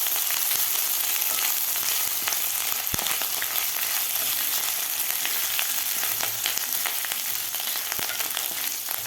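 Spices and grated ginger sauté in a pan with a constant bright sizzle, close by, with occasional light taps and a single sharp knock of the spoon.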